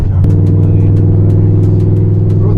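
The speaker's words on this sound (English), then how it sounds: "I'm letting someone drive the e60 M5." BMW E60 M5 being driven with passengers aboard, a steady low engine drone heard from inside the cabin, with faint ticking clicks scattered over the hum.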